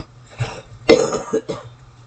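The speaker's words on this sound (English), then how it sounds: "I do apologize for the coughing." A person coughs a few times in short, rough bursts, close to the microphone in a quiet room, with a throaty rasp between the coughs and no speech.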